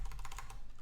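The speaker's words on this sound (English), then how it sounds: "You can tell I'm using a different keyboard." Rapid keyboard typing, a quick run of close, soft clicks over a steady low hum, with no voices.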